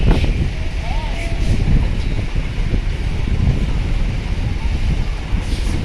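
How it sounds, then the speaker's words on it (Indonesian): Strong wind buffets the microphone over the Sunda Strait at dusk, a steady loud broadband roar with heavy low rumble, likely mixed with sea and boat noise, continuous throughout. "Untuk kondisi cuaca mulai angin kencang, alunnya juga sudah mulai besar juga nih"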